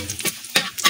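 Chopped onion sautéing in hot oil in a pan for a camansi vegetable dish, with several short stirring bursts of sizzle and scraping in quick succession, close and fairly loud, no talking.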